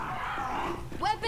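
A Charger zombie in Left 4 Dead 2 lets out a brief, loud growling roar over game noise, and a voice speaks just before it.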